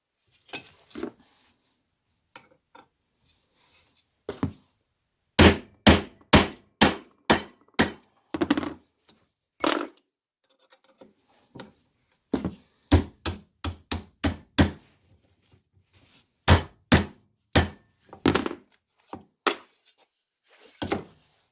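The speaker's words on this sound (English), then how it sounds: "I can either continue to pound that through or just pull it out the backside now, and I'll do the second one." Sharp metal hammer strikes drive a rivet out of a shovel handle, landing in quick bursts of three to seven blows separated by short pauses, close and loud in an otherwise quiet workshop with no talking.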